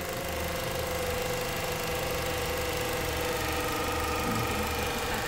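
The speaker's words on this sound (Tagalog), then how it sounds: "Mayroong sayad yung motor." A failing radiator fan motor on a Ford Fiesta, running continuously with a steady mechanical hum and faint rough scraping, close by and alone with no voices.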